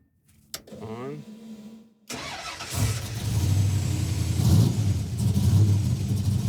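A race truck's engine cranks and catches, then settles into a loud, steady idle up close, with brief talk before it fires.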